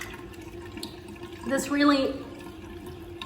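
Water runs from a tap while a face is rinsed after cleansing, a steady rushing splash that swells for about a second under a person talking.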